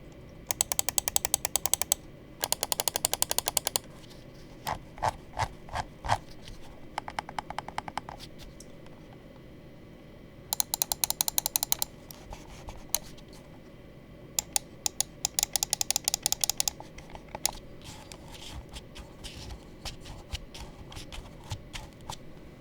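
Rapid bursts of sharp plastic clicking from Mchose A5 Pro Max gaming mouse buttons, quick runs and isolated taps close up, separated by quiet pauses.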